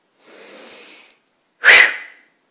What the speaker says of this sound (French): je peux pratiquer 3 respirations